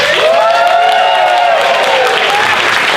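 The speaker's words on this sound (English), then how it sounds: "I want you guys to give me an applause" Comedy club audience in DC applauding and cheering, a loud, dense burst of clapping with whoops and shouts rising above it throughout.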